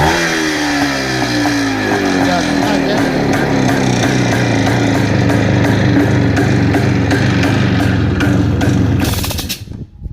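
A motorcycle engine revved hard with the throttle, its pitch climbing and holding in loud, close, sustained surges, ending with a brief cutoff.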